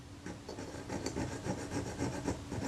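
A small file or saw rasps back and forth across the head of a camera screw held in a bench vise, quick repeated strokes, close and quiet with no talking.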